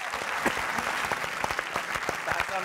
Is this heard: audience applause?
yes